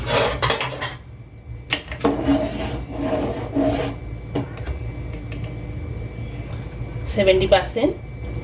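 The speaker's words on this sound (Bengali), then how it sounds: "হাঁড়ি ঢাকনা খুলছি।" A cooking pot's lid being opened after boiling potatoes and eggs for an egg and potato biryani: close metallic clatter, rasping scrapes and knocks, with a voice briefly audible near the end.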